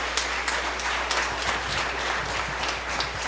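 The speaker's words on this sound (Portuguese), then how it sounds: "Pode aplaudir?" A congregation applauds during a sermon, a dense, even wash of many hands clapping at moderate distance that holds steady throughout with no talk over it.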